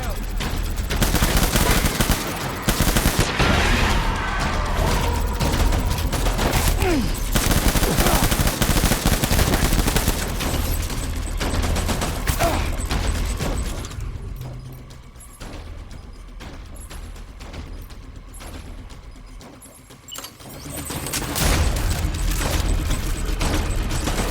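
Heavy gunfire from a Death Stranding battle on a beach, dense bursts of automatic fire and booms packed together, loud for most of the stretch, easing into sparser shots before swelling again.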